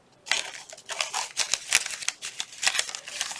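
Scissors snip through a small piece of paper ephemera, giving a quick run of close, crisp cuts and rustles in an uneven rhythm, with no talk.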